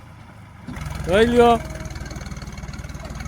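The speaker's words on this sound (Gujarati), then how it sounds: "ભરાઈ ગયું છે ભાઈ ટ્રેક્ટર, નીકળે છે." A sugarcane-loaded tractor engine starts up and idles nearby with a steady low rumble, while someone speaks briefly over it.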